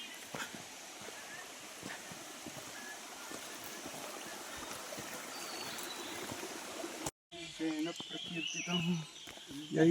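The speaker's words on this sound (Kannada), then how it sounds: "ಇಲ್ಲೊಂದು ಜರಿ ಇದೆ" A forest stream on the Kumara Parvatha trek from Somwarpet gives a soft, continuous rushing wash for about seven seconds, then cuts out before someone speaks over faint outdoor background.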